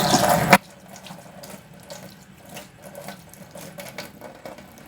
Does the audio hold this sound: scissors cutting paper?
no